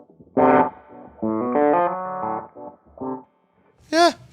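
An electric guitar, played through effects units with distortion, rings out in a few short, bright phrases of sustained notes with gaps between them, ending on a quick bent or warbling note.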